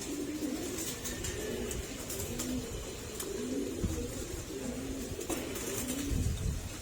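Pigeons coo in soft, repeated rolling calls against a steady background hiss, fairly close and moderately quiet.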